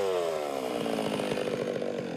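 A chainsaw carving wood for a Māori waka taua, a war canoe: the engine runs loud and close throughout, holding a steady, buzzing drone with slight rises and falls in pitch as the blade works the timber.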